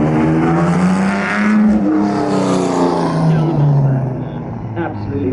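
A race car engine roars loudly and steadily at a museum demo day, its note rising and falling as it revs, with a voice talking over it partway through.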